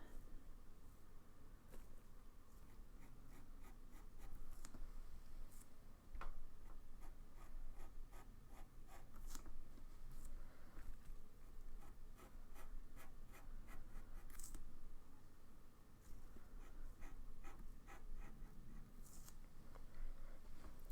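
Pencil on paper outlining a fox's eye, drawn with a plastic sheet under the hand: faint, steady scratchy strokes with quick ticking taps, close and quiet throughout, no voices.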